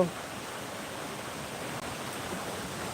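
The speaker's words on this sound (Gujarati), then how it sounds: "મિત્રો જોઈ શકો છો વરસાદ અત્યારે બહુ પડે છે" Heavy downpour in Ugamedi village, Botad district, during a windy storm, a steady broadband hiss of falling rain, loud and unbroken throughout.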